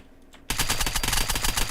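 Automatic gunfire in the video game Unturned breaks out after a brief quiet moment, a dense, loud burst of rapid shots that continues steadily to the end.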